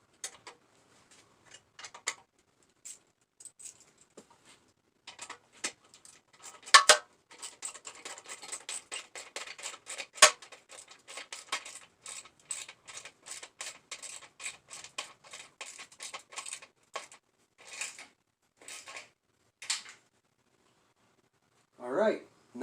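Wrench work tightening bolts on a 1976 AMF Harley Davidson SS 175 motorcycle during a rebuild, a quiet scattered series of close metallic ticks and ratcheting clicks with short pauses.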